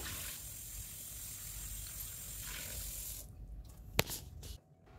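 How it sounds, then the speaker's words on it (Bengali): Cut potatoes are rinsed in a bowl of water, with a steady close splashing and swishing that stops abruptly near the end after a sharp clack. "তারপরে ভালো করে জল দিয়ে 3 থেকে 4 বার আমি আলুটাকে ধুয়ে নেব।"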